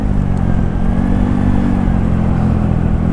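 A Honda Beat motorcycle with a carburetor and 130cc bore-up engine revs loud and close, a steady rough drone held throughout with no pauses.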